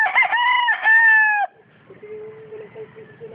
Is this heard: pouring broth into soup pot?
no